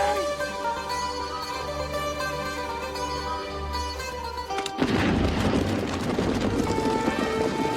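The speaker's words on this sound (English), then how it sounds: "Demetrios is going to blow up the rock. It'll make a lovely explosion and clear the road to the camp." A rock is blown up with explosives to clear the road to a camp: music plays at first, then a single sudden loud blast hits and rolls into a dense, rumbling roar of debris that carries on to the end.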